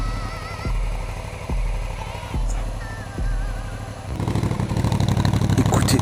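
An Aprilia Shiver 900 motorcycle engine is blipped several times in a row, each rev a short rising burst, before settling into a louder, rapid pulsing idle close by.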